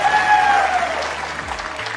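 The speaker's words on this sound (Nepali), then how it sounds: "अझ अडियन्सको ताली चाहिँ बजाउनुपर्छ" An audience claps together at a singing performance in Lamjung's Durlung Kot. The applause is steady and fairly loud throughout and fades a little toward the end.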